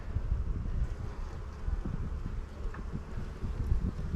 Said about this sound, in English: Ton of bees.